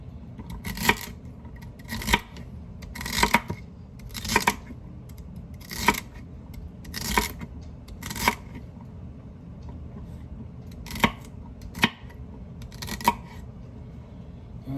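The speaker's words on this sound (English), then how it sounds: "I'm making about 1/4 inch cuts" Knife strikes on a cutting board come in a steady series of about ten crisp chops, each roughly a second apart, as a vegetable stalk is cut into quarter-inch pieces for albondigas soup, close and clear with no talking.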